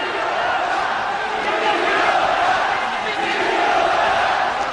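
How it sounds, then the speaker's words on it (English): A boxing crowd roars steadily throughout a professional bout, a dense sustained wash of cheering voices at constant loudness with no pause. "The crowd behind the homeboy, Brian Viloria"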